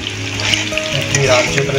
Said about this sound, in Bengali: এদিকে পটল ভাজা হতে হতে